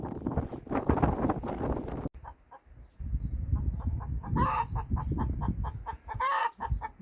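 A hen clucks in short, repeated bursts close by on a windy, stormy day along a countryside trail, with gusting wind rumble underneath and a brief lull midway.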